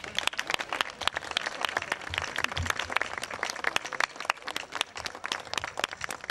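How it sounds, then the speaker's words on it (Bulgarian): Warm, sustained applause from an outdoor festival crowd at a church feast celebration in Arbanasi, dense rapid claps from many hands continuing steadily without pause. "за сърдечните аплодисменти"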